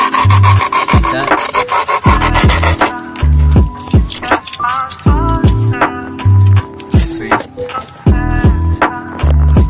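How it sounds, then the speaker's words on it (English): Skateboard grip tape is rubbed hard against the edge of the board in repeated rasping strokes, loud and close, with steady scraping and rubbing broken by short pauses. "So you need to rub it against the edge to make the outline so you know where you have to cut it."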